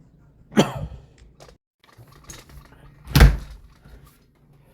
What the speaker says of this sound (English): we have to close the door